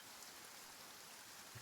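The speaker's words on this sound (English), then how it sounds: "Oh, starting to rain." Steady rain falls in the Genshin Impact video game, a soft continuous hiss of drops on surfaces that holds evenly throughout with no other sounds standing out.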